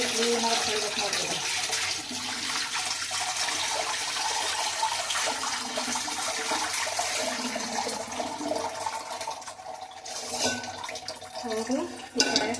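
Tap water runs steadily while fish is washed clean by hand in a home kitchen before frying, a continuous splashing rush with faint voices in the background.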